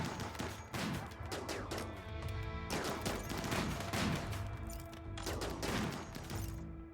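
Sniper rifles firing during a raid in the console edition of RimWorld, a steady mass of overlapping shots and impacts with no gaps, fairly quiet overall.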